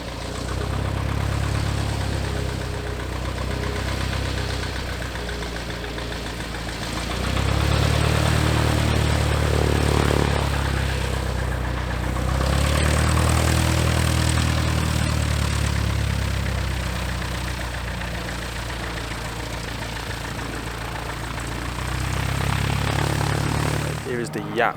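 A tiny single-seat propeller plane's engine idles with a steady drone that swells and eases in slow waves over an airshow background, loud and continuous throughout.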